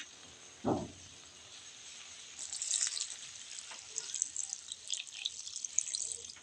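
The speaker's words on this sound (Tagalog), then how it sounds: "Lagyan ng kunting tubig." A splash of water hits vegetables cooking in a pan: a short pour at the start, then a rising hiss and bubbling sizzle that carries on steadily and close by.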